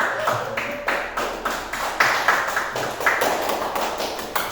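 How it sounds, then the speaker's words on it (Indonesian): A class of students in an Islamic religious education lesson claps together in a quick, rhythmic pattern of evenly spaced beats, close and fairly loud, with no talking. "tepuk tangan untuk kelompok 5"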